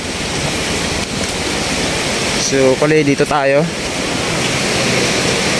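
Loud, steady roar of a flooded river rushing hard after heavy flooding fills the whole clip, a continuous wash of water noise with someone speaking briefly over it.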